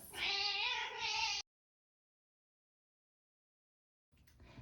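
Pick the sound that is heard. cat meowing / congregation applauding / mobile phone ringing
cat meowing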